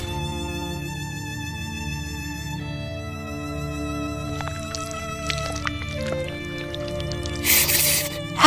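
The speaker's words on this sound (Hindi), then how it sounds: "अरे उधर तो एक झरना बह रहा है।" A cartoon sound effect of a waterfall flowing: squishy, bubbling, watery tones over a sustained musical drone, rising to a brighter splashy burst near the end.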